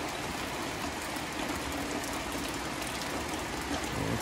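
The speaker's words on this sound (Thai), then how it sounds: "ฝนตกแล้วนะครับ" Rain falls during a storm at a garden house in Udon Thani, Thailand, a dense, even hiss of drops that stays steady and fairly faint throughout, with no voices.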